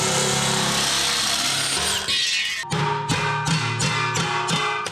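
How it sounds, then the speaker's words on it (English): A nibbler cutting through aluminum sheet, first a continuous loud motorized grinding and then a run of rapid rhythmic chomping bites, close up and alone. "I'm gonna nibble right through all this."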